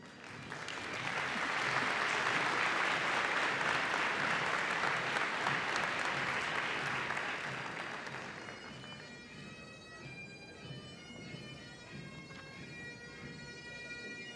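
A convocation audience at Bishop's University applauds graduates as they file in: loud, dense, sustained clapping that swells, holds for several seconds, then fades under a soft tonal background.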